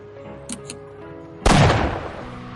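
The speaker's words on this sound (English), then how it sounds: "The cannon is set." A single loud cannon blast in Nobodies: After Death, a sudden heavy boom that decays over about a second, preceded by two small clicks over a quiet hum.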